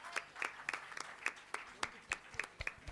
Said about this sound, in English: Let's give a big round of applause to the presenters.